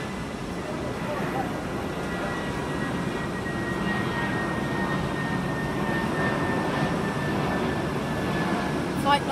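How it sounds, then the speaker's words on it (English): A British Airways airliner bound for Munich passes near London as a steady, broad engine roar that stays loud and even throughout, with a faint high whine running through it. "flight 960 British Airways flight to Munich."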